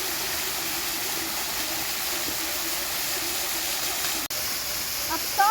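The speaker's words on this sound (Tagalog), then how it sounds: "Ganda ng falls" Steady broadband rush of a waterfall in the provincial countryside, a constant close roar of falling water filling the scene, alone with no talk.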